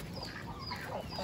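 Backyard chickens clucking in the Amazon countryside, soft scattered clucks and calls over a constant noisy outdoor background, faint and brief.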